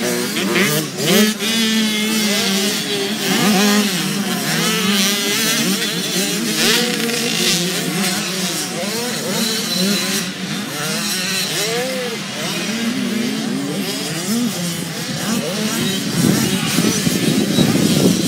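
Several 65cc dirt bikes race around a dirt track at the Tigerton Battle of Wisconsin. Their high, whining engines rise and fall as riders shift and rev, loud and continuous, with a voice talking over them.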